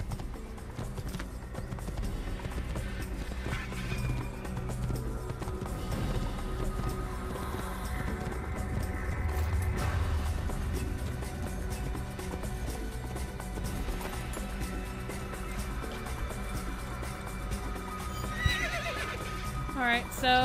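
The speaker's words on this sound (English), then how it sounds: "These horses run really funny." Horses in the PC game Assassin's Creed gallop with rapid clip-clop hoofbeats and loud neighs and whinnies over game audio. The sound stays dense and continuous throughout.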